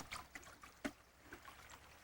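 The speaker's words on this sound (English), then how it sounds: "the water is rushing right along" A woodland stream runs along, faint close trickling and gurgling with small splashes scattered through.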